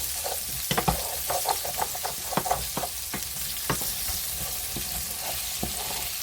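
Garlic-seasoned mixed vegetables stirred in a frying pan: steady sizzle with repeated scraping, clattering utensil strokes at an irregular rhythm, close and fairly loud, with no talking.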